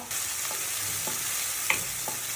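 A medium onion sautés in hot oil over spluttered mustard seeds for a Kerala red cowpea curry: an even, close sizzle with occasional soft scrapes of stirring and one brighter tap of the utensil.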